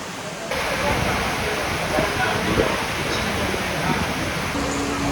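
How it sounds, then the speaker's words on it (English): Heavy rain pours onto a Hallberg-Rassy 352 sailboat in a steady, loud, hissing wash that starts abruptly and holds evenly, with a voice speaking under the downpour. "it's still raining and we can't go anywhere"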